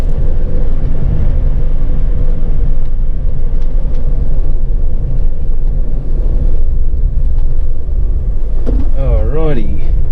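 A car driving along an outback road toward Hurstville Corner, with a steady low engine and road rumble throughout, some wind buffeting, and a brief voice near the end.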